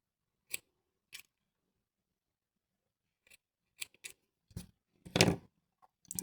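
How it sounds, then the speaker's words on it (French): Scissors snipping white yarn during crochet work, a few crisp isolated cuts spaced apart, close and clear against near silence, with a cluster of quick snips and a handling rustle near the end. "Je coupe mon fil blanc."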